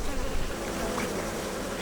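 Bees buzz steadily around their nest, a dense continuous drone at moderate level with no voices.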